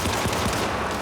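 Enemy gunfire in the video game Syndicate on the hardest difficulty, a dense, continuous burst of shots that fills the whole short moment with no talk over it.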